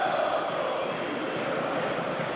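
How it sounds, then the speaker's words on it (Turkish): Football fans fill a stadium at the Turkish Cup final between Fenerbahçe and Başakşehir, a steady dense crowd roar with applause carrying throughout and no break. "Sarı lacivertli taraftarların alkışları arasında kenara geliyor Arda"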